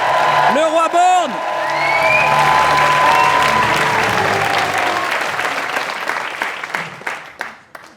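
A large audience applauds and cheers at a comedy awards show, loud dense clapping with whoops rising over the crowd, the applause continuing steadily and thinning toward the end.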